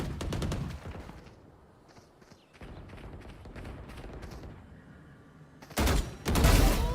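Bursts of gunfire from a shooter video game, with a loud close volley at the start and heavy shots again near the end, and lighter sporadic shots in between.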